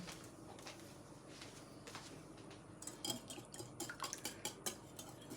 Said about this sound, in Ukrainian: І перемішуємо